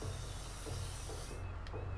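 Steady hiss of an aerosol can spray-painting graffiti in the inFamous: Second Son video game, continuous and fairly close over a low mechanical hum, with a faint tick near the end.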